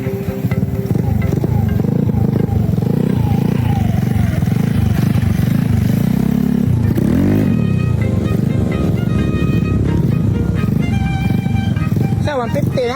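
A Rose GY6 150 scooter engine with upgraded cams revs continuously in a workshop, loud and close with rising and falling pitch, while someone talks over it.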